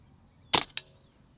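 Single shot from an Umarex 850 M2 air rifle: a sharp close crack, then a second snap a moment later as the pellet strikes, over quiet outdoor background.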